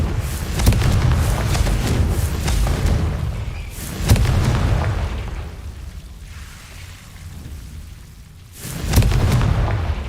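Confringo explosion spells in Hogwarts Legacy land as deep, booming blasts with rumbling decay, three heavy impacts spaced a few seconds apart, loud and close, with no talking.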